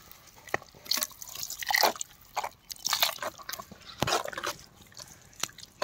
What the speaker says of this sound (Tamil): கொஞ்சமா தண்ணி ஊத்திக்க.